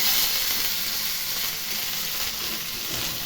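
A handful of washed curry leaves fry in hot oil in a pan for a Tamil karuveppilai kuzhambu, giving off a steady, close, bright sizzle and hiss with no break.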